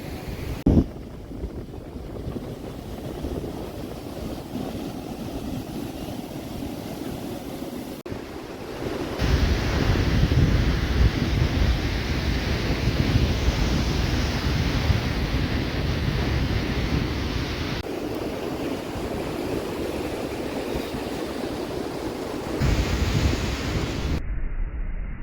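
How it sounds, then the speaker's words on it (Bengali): Sea waves roll onto the beach at Puri with cool wind blowing, a steady washing roar that swells louder midway, accompanied by buffeting wind noise on the microphone and no voices. "ঠান্ডা ঠান্ডা হাওয়া আর সমুদ্রের ঢেউয়ের আওয়াজ।"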